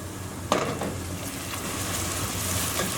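Onions with crushed garlic cloves frying lightly in a pan, a steady soft sizzle with a few brief stirring scrapes near the start and end, no talking.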